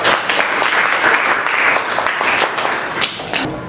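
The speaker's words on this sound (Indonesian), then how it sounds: "untuk kalian semua tepuk tangan dulu" Students in a physics class applaud together, a short burst of dense, loud hand clapping that holds steady for a few seconds and thins near the end.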